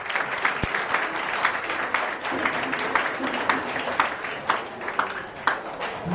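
An audience at a school speech and prize-giving day in Accra claps in a loose, uneven patter, scattered hand claps of moderate loudness filling the room throughout.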